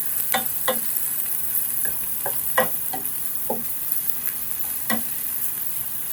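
Chopped atarido peppers frying in a pan, a constant sizzle broken by several sharp scrapes and clicks of a spoon stirring against the pan.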